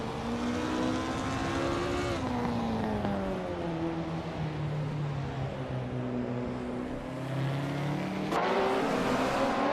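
Race cars, among them a vintage Porsche 906, roaring along a circuit, with a sustained engine drone whose pitch rises and falls as the cars accelerate and shift, plus a brief sharp burst near the end, loud and continuous.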